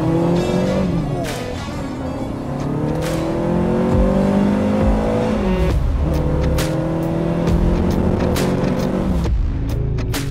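A TVR Cerbera accelerates hard through gears on a country road, its loud engine roar climbing in pitch with brief dips at each shift, heard from inside the car.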